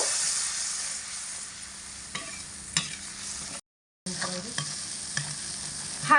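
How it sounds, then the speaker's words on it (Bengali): A spice paste with poppy seed fries on low heat while being stirred, a soft continuous sizzle with occasional spatula scrapes and taps, close and fairly quiet, briefly interrupted by a short gap. "এবারে লো আঁচে রেখে মশলাটা খুব ভালো করে কষিয়ে নেব"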